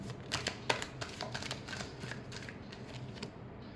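Tarot cards being shuffled make a soft, quiet rustle of riffling and flicking, close up, in irregular bursts with no voice.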